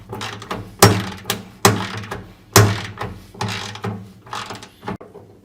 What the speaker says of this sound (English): just going ahead and undoing these fasteners